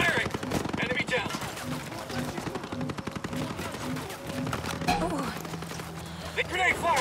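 Gunfire in the video game 2nd Echelon II: rapid bursts of automatic shots crackle at mid distance, mixed with game effects and heard beneath ongoing speech.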